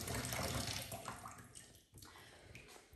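Water from a tap pours steadily into a baby bath, a loud, constant rush that eases off and briefly dips near the end. No voices are heard.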